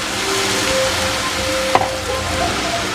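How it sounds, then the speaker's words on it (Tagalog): Bean sprouts sautéing in a pan for lumpiang toge, a steady broadband sizzle and frying hiss with a brief clatter of stirring near the middle, close and fairly loud with no talk. "Gigisa lang naman to."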